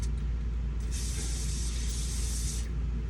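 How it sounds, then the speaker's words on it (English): A sustained hissing spray from a silicone lubricant aerosol can, one long burst of about two seconds over a low mechanical hum. "I'm just going to hit it with some silicone as well. And again, just some silicone spray."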